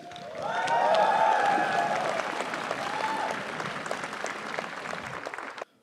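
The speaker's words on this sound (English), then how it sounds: "Shall we all raise on our feet and welcome our guest speaker with a huge round of applause?" A college crowd on its feet gives a long standing ovation to a guest speaker at a spring fest, loud, dense clapping that swells, holds for several seconds and cuts off abruptly.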